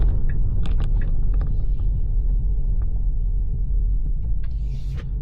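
A Tesla Model 3 runs nearby with a steady, loud low rumble, joined by a few faint clicks and a brief hiss near the end.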